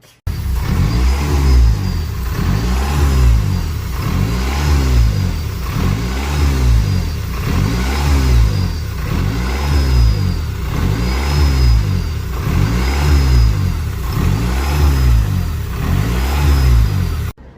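A Corvette C5 engine revs steadily in repeated rising pulses, with a thin high whistle riding along each rev, loud and close with no talking.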